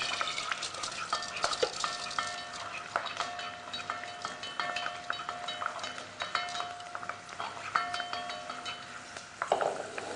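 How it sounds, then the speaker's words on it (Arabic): Almonds fry in oil in a pan while being stirred, giving a steady close sizzle with repeated scraping and clinking of the utensil against the pan throughout. "لبين ما إحنا نتابع قلي اللوز"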